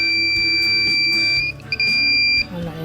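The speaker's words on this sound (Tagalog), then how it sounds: "Tapos may buzzer na yan" A buzzer on a repaired solar inverter gives a steady, piercing high tone that briefly breaks off and resumes, heard close over low background noise.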